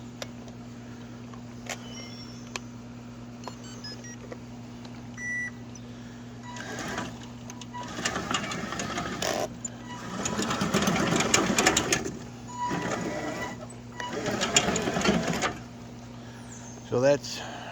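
A remote-controlled mower with a remote dump runs with a steady motor hum and whine, rising into louder, rougher surges as the machine turns around in a hurry, then settling back.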